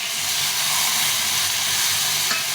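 Water is poured into a pan of frying spices with turmeric and salt and sets off a loud, continuous steamy hiss and sizzle that is heard close up with no talking.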